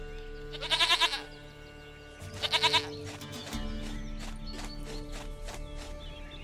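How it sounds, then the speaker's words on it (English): Goat in The Witcher 3: Wild Hunt bleating in two loud, wavering bursts, followed by a steady game ambience with soft tonal background sound and no speech. "Goat of mine, dearest, sweetest goat."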